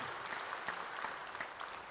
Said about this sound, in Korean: 할렐루야 박수.